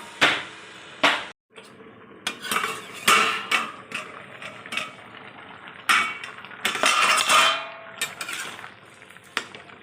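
A lid clatters onto a cooking pot of home-style raw banana curry in a kitchen, with a series of sharp metallic knocks and clanks, some close and loud, spaced irregularly amid quieter gaps.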